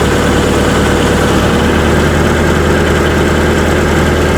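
The engine of a Spartan Serie 1508 runs steadily at close range, a loud, unbroken droning hum with constant vibration and no speech.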